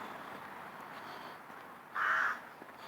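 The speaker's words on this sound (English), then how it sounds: "The crows make this place their own." A single crow caws once, clear but moderately distant, over a steady outdoor hiss on a damp, leaf-strewn walkway.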